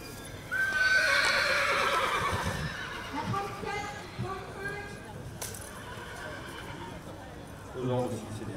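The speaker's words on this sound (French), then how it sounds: "Allez, au pas, et on va revenir, et après on va démarrer au trot, Géraldine." A horse at a show ring whinnies loudly and close, then walks with soft hoof clip-clops, while people talk in French around it.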